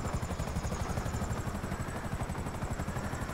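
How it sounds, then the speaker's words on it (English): Attack helicopter in GTA V Online, a steady, loud rotor thump with a chopping low pulse and a high whine, continuous and close throughout with no voices. "Do you want the attack helicopter?"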